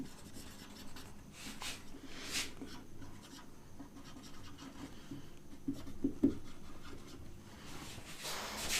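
Chalk or marker writing on a board during an English grammar lesson, quiet intermittent scratching strokes with brief taps and pauses, heard at close range.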